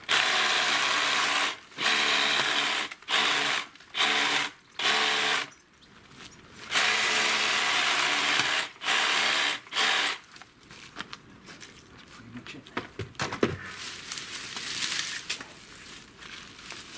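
Lavender plants being trimmed during pruning: a run of short, loud machine-like buzzing bursts with brief gaps, then a quieter stretch of rustling and light clatter.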